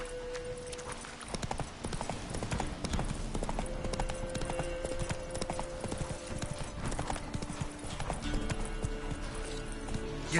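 Horse hooves gallop in The Witcher 3: Wild Hunt, a rapid, continuous clip-clop rhythm under a game music bed with occasional sustained tones, steady and fairly close throughout.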